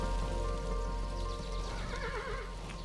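A horse whinnies in the side-scrolling strategy game Kingdom Classic, a wavering neigh rising near the end over a steady wash of rain and faint hoof clops.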